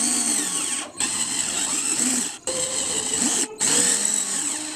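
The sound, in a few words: drill machine with 1.5 mm drill bit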